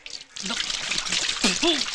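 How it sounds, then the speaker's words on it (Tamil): Water poured steadily over someone's hands for washing, a continuous splashing trickle under a voice talking throughout. "தயவு பண்ணி கொஞ்சம் தண்ணியை ஊத்தி கழுவி விடுறியா ப்ளீஸ்?"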